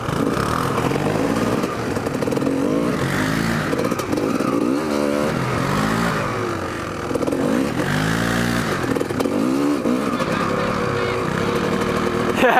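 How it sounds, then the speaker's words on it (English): A scrambler motorcycle engine drones loudly nearby, rising and falling as it revs, with a rough steady rumble and faint voices beneath. "That's pretty badass scrambler, man."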